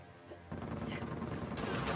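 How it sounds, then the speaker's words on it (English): A grenade launcher fires during a firefight in Uncharted: The Lost Legacy: after a half-second lull, loud dense blasts and crackling gunfire erupt and keep going steadily to the end. "I'm gonna use this grenade launcher"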